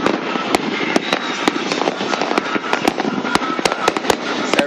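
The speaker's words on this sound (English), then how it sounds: "that's fireworks, so you can imagine what we're here right now" Dense New Year fireworks going off all around, with a constant crackling roar punctuated by many sharp, loud bangs at irregular intervals, no talking.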